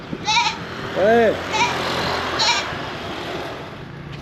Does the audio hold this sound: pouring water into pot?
no